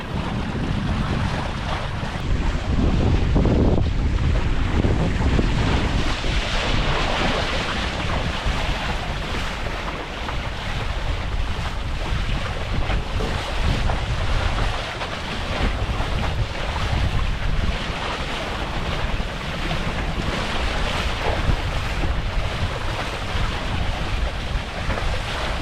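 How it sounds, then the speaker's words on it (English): A MiniCat 520 Explorer small catamaran sails through the Stockholm archipelago amid steady gusting wind buffeting the microphone and continuous splashing waves, loud and unbroken throughout with no talking. "This is some sailing."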